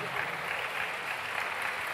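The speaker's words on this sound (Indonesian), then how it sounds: "tepuk tangan untuk kita semua" Audience applause at a university talk on careers in the national energy sector, a dense steady wash of many hands clapping, moderately loud and unbroken throughout.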